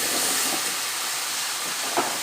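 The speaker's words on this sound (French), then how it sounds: "Je vais rajouter mes courgettes." Sliced courgettes sizzle in olive oil in a hot pan, a steady, dense hissing fry that stays loud and even throughout with small bubbling pops, no voices.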